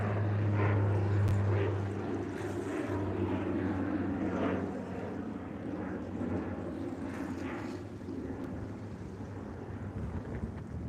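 A Porter Airlines plane flies near Billy Bishop Airport on the Toronto waterfront, heard as a steady, moderately distant engine drone with a low tonal hum that slowly fades.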